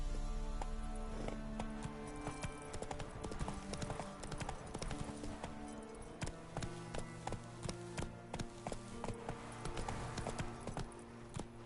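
A horse gallops steadily through a video game world, with a dense, rapid clip-clop of hooves running throughout at a moderate level and a faint voice briefly under it.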